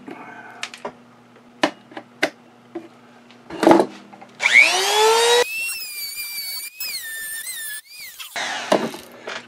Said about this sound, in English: The grinding might not have been necessary